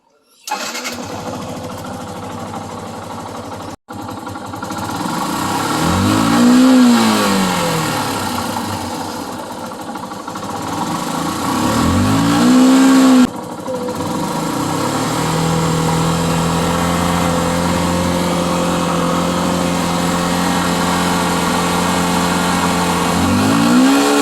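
A Yamaha Fazer V1.0 motorcycle engine starts and revs during a test after a repair, rising and falling in several loud throttle blips over a steady close idle.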